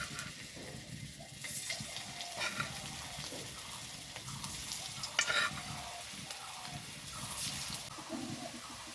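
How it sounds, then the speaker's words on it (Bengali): Cabbage kofta balls fry in oil with a steady, moderate sizzle and bubbling, along with occasional stirring clatter and a sharper sputter midway through. "আমি এই কোপ্তাগুলো ভেজে নেব। তো একটা একটা করে আমি দিয়ে দেবো তেলের মধ্যে।"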